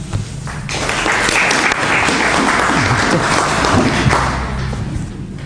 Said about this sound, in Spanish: los dejo con ella y un aplauso